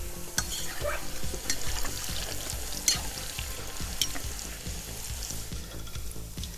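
Sliced potatoes for homemade chips fry in hot oil with a dense, constant crackling sizzle, close and even, with occasional louder pops over a low rumbling bubbling beneath.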